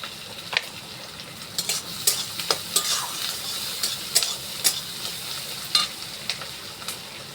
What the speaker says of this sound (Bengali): মাংসের জন্য পেঁয়াজটা ভালো করে একটু ভেজে নিই।